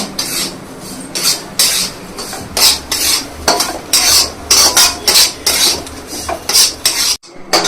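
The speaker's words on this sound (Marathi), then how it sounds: "त्याच तुपामध्ये मी आता रवा भाजत आहे। रवा सारखा हलवत राहायचं कारण तो करपतो।" Semolina roasts in ghee in a kadhai while a spoon stirs it constantly, giving loud, close, rhythmic metal scrapes and rasps against the pan over a soft sizzle, with a brief silent break near the end.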